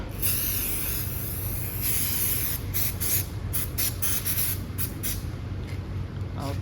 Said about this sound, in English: Spray some sticker remover.